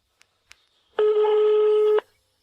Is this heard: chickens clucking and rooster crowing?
no